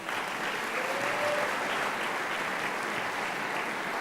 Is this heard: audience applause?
yes